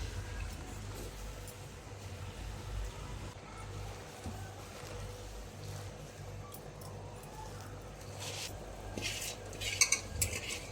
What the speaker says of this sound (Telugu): ఇప్పుడు దీంట్లో గోంగూర వేసుకుంటున్నాను.